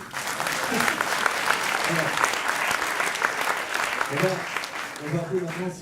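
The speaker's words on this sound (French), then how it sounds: "On va applaudir encore une fois, s'il vous plaît." Audience applause at a French science outreach show, steady dense clapping throughout with a few voices and speech fragments rising near the end.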